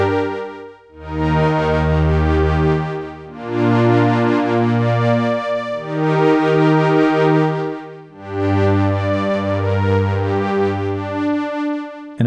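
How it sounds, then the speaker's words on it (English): A KORG prologue synth pad with an LFO sweeping the filter cutoff gives a slow, wah-like swell, sustained chords rising and falling in loud cycles of roughly four seconds, with no voices. "So it sounds more like a guitar wah pedal"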